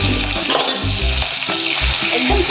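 Cumin seeds fry in a little oil for a fasting-day recipe, giving a steady close sizzle and crackle over low pan rumble with a few brief stirring knocks, and no talking.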